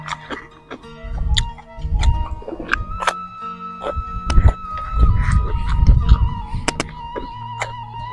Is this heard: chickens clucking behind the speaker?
yes